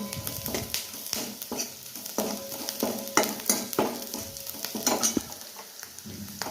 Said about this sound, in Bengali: এবার হলুদ দিয়ে এটাকে কাটবো ঘেটে এখানে দিয়ে দেবো